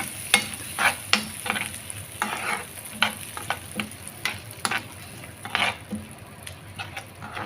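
Cashews and almonds fry in a pan with a busy crackling sizzle, broken by repeated scraping stirs in an uneven rhythm, close and alone without speech.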